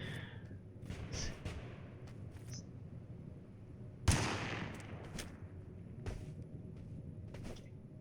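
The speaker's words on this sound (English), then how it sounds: "using automatic weapons in this game is not easy at all." Automatic weapon gunfire in the video game Totally Accurate Battlegrounds, faint short bursts and a sharper single crack midway, over a quiet game background with no talk.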